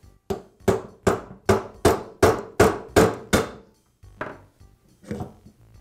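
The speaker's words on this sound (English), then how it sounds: "I'll use a hammer to tap on the drift punch, and that'll pop the taper out of the spindle" A hammer strikes a drift punch about nine times in a steady, even rhythm, sharp and close, knocking a taper from a Jet drill press spindle, followed by a couple of softer, scattered taps.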